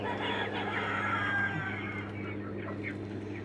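A mixed flock on a farm, older young chickens walking among baby chicks including Jubilee Orpingtons and Turkens, gives off soft clucks and peeping chirps over a steady low hum, with a few sharper calls toward the end.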